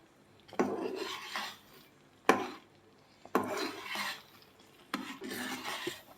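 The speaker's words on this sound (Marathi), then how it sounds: "आपल्याला हे मिश्रण घट्ट होईपर्यंत एकसारखं हलवायचं आहे बघा." A spoon scrapes and stirs thickening Karachi halwa mixture in a metal pan, in four distinct rhythmic strokes with sharp clinks at their starts, up close and free of talk.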